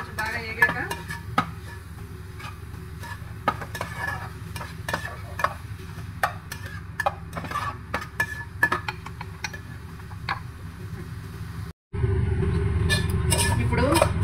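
Garlic and green chillies fry in a pan with a steady low sizzle, broken by frequent clinks and scrapes of a stirring spoon. Near the end there is a brief gap, then a louder, fuller sizzle.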